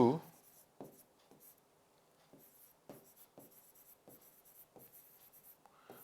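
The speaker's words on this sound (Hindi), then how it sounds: "एक एग्जांपल और लिखता हूं मैं यहां पे" Chalk or marker tapping and scraping on a classroom board as a teacher writes an example, a series of short, faint strokes spaced irregularly, with quiet room tone in between.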